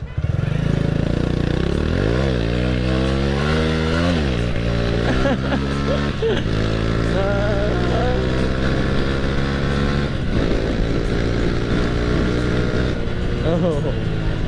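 A Honda Astrea Grand motorcycle fitted with a Karisma reamer carburetor revs up and accelerates up through the gears, its loud, close engine rising and falling in pitch, with speech heard at points.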